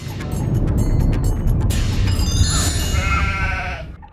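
A goat sound effect gives a drawn-out, wavering bleat over a loud, rumbling background, rising near the end before cutting off.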